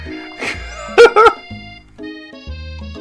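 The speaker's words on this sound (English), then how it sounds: "Sprinkles is barking ferociously, drool flying off his face" Sprinkles, a dog in the video game I Love You, Colonel Sanders!, barks ferociously: a couple of loud, sharp, close barks in quick succession, set among softer game sound effects and brief musical tones.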